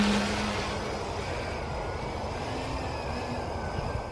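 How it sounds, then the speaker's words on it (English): A small RC VTOL aircraft hovers slowly on its lift motors, giving a steady, fairly loud propeller whine and buzz that holds near-constant pitch throughout with slight shifts. "So I took off in hover mode and hovered around at a relatively slow speed"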